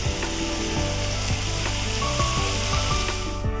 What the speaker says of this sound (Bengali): সব মশলা টশলা দিয়ে আলুটা ভালোভাবে কষানো হচ্ছে।